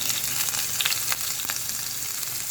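Garlic frying in a pan gives a loud, close, steady sizzle with crackling pops and a few light stirring scrapes throughout.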